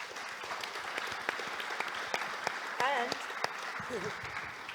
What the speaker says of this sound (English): So a huge thank you to Debbie. Big round of applause.